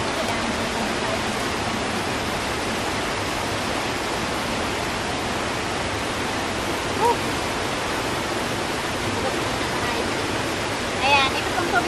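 Water supply stream flowing on Mt. Isarog, a loud, steady rushing hiss with no break, a couple of faint brief sounds at the edges.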